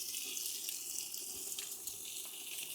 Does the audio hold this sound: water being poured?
yes